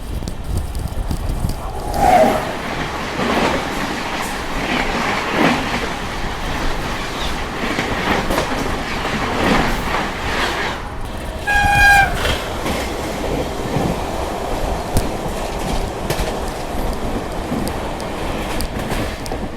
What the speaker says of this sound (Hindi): तो ये क्रॉस हो रही है कामायनी एक्सप्रेस।